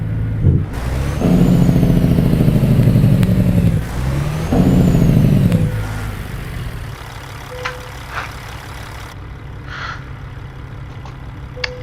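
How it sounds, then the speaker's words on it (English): A Kenworth W900L truck engine in American Truck Simulator idles with a loud, steady low rumble for several seconds, then drops to a quieter hum with a few small clicks. "This motor is a little bit loud when I'm just sitting here idling"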